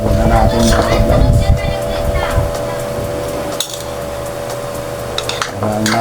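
Sweet potato leaf salad is tossed with salt in a bowl, giving light clinks and scraping of utensils against dishware, busier at first then fading, with a voice talking through it.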